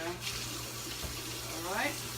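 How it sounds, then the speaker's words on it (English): Tap water runs steadily into a kitchen sink while a bowl is rinsed, with a close, continuous splashing hiss and brief shifts as the bowl moves under the stream. "Rinse the bowl. Don't want any of that water in there."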